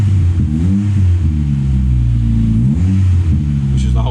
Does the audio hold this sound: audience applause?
no